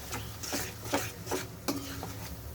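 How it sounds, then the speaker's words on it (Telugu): Okra gravy curry paste frying in oil: soft sizzling under a series of regular scraping stirs, close and moderately loud, about four or five strokes with a sharper clink near the end. "కొంచెం పచ్చివాసన పోయే వరకు ఫ్రై చేసుకొని"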